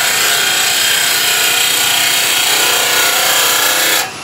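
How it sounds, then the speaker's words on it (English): A gouge skew-cutting a wooden pear on a lathe gives a steady, loud, continuous shearing rasp throughout, ending abruptly near the close. "Now I'm going to drop my handle down and skew cut with the bottom of the gouge."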